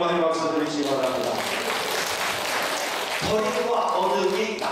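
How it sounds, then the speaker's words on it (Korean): A church congregation applauds in a continuous, full wash of clapping that fills the room, with voices mixed in. "하나님께 영광의 박수 드리시기 바랍니다"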